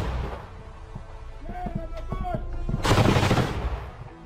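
A burst of rapid, heavy truck-mounted ZU-23 23mm anti-aircraft cannon fire erupts after a few scattered shots, loud and booming, continuing in a dense rattling stream for about a second.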